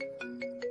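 A phone ringtone plays alone, three short repeating tonal pulses in a steady rhythm, fairly quiet.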